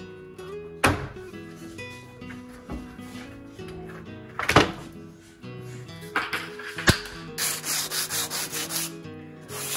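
Sandpaper rubbing along the rough edge of a freshly poured, pour-in-place concrete kitchen island countertop, heard as close, repeated gritty scraping strokes in uneven bursts, with a few sharper knocks and a denser stretch of rapid rubbing near the end.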